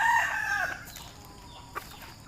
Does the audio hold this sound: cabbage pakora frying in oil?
no